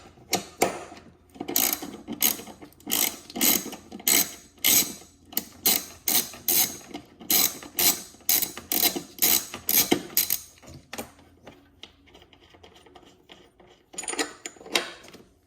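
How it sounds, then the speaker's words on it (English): Ratchet wrench clicking in quick repeated bursts while loosening a 13 mm bolt on the battery hold-down bracket of a Porsche 911, Cayman or Boxster, close and crisp, with a short pause and a final burst near the end. "I'm gonna remove this bolt that is holding down the battery bracket. That is a 13 millimeter."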